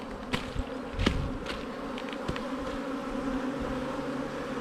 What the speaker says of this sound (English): simply shake those bees like that in here